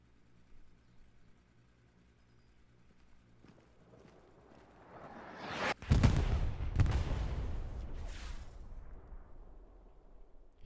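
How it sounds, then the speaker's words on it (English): An artillery shell lands in the Hell Let Loose battlefield game, a sudden heavy boom after a quiet stretch that rolls into a long rumbling tail of debris and further thuds. "Him saying shot lets me know that he fired and I am expecting an impact."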